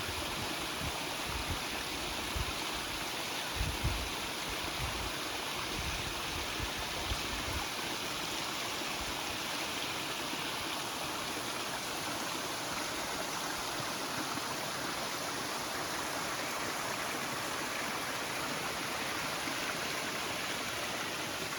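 Steady rushing stream water on the Appalachian Trail flows continuously, a dense broadband wash with a few low thumps early on, close and fairly loud throughout.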